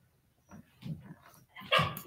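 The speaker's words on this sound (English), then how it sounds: "Why are you at my door barking?" A dog barks at a door indoors, a handful of short barks and yips at close range that rise to a louder burst at the end, with no talking.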